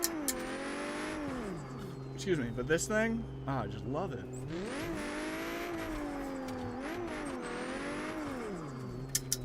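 A Ford Mustang engine in a drifting video game revs up and down in smooth, wavering sweeps, held steady at moderate volume while someone talks over it.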